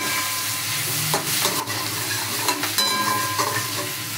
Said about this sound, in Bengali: এটাকে ভালো করে নাড়াচাড়া করবো।